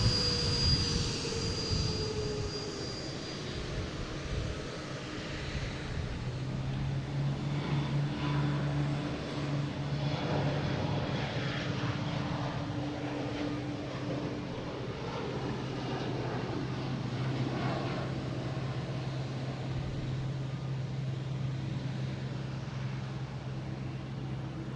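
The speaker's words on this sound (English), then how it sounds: "next taking off the Delta heading to Baltimore, Washington International Airport" A Delta jet takes off at Boston Logan Airport, bound for Baltimore-Washington, heard as a steady, broad engine roar with a sustained low drone, continuous and fairly distant throughout.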